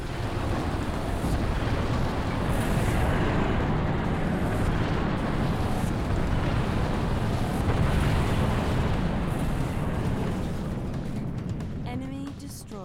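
An orbital MAC cannon strike from the Spirit of Fire in Halo Wars lands as a huge, sustained roaring rumble, loud and rushing like wind or surf, easing slightly toward the end.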